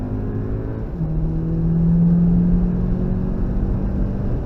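Car engine pulling hard as it accelerates on a wet Nordschleife circuit at the Nürburgring, a steady drone rising in pitch and loudness toward the middle, heard from inside the car without talk.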